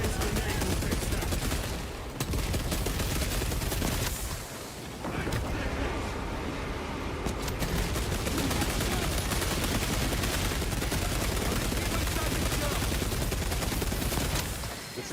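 Dense gunfire and explosions from the video game Warhammer 40,000: Space Marine II, with loud, continuous rattling bursts and booms. Brief dips interrupt the barrage, and voices talk over it.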